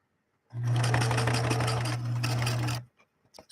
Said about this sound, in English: Let's sew it one more time and see what we get this time.